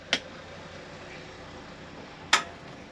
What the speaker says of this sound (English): What you hear is the clunk of the gas solenoid opening,